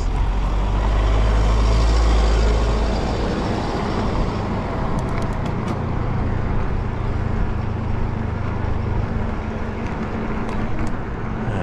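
Cars and trucks pass along a rural road by a farm near the Hillcrest mountain bike trails, a steady loud rumble of close traffic with a heavy low engine drone and no talk.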